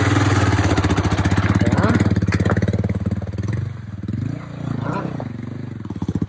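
A Royal Enfield Himalayan motorcycle engine chugs loudly and steadily up close, its throttle gently varied as the bike works free of soft ground, with a couple of brief spoken words over it.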